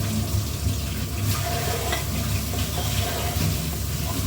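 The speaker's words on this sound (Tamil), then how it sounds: "நல்லா வதங்கிடுச்சு." Ingredients sauté in hot oil in a pan at home, a loud steady sizzle with scraping stirs and small crackles running close throughout, no one talking.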